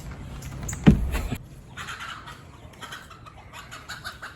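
Chickens on a farm, a rooster among hens, give a loud close squawk followed by softer scattered clucks and rustling against outdoor background noise.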